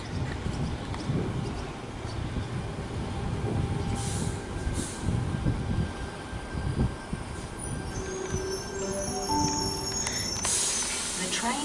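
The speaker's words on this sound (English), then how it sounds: "here comes the Tangara" A Tangara T45 suburban train pulls into the Wolli Creek platform in Sydney, a loud rumble of wheels and carriages close by with squealing and hissing brakes as it slows. Faint voices sound under the noise.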